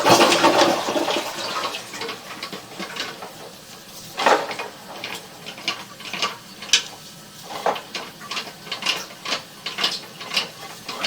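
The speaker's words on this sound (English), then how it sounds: "We're going to go ahead and flush the toilet." A toilet flushes into a sewer pipe during a camera inspection, an initial loud rush followed by irregular gurgling, clanking pulses of water echoing inside the pipe.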